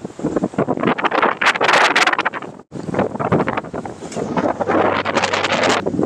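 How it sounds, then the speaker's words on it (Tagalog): Strong gusts roar and buffet the microphone almost continuously, with a brief drop in the middle and a low rumble building near the end. "kaso sobrang lakas ng hangin."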